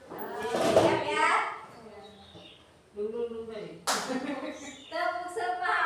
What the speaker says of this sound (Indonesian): ayo kita semua berdiri untuk bertepuk semangat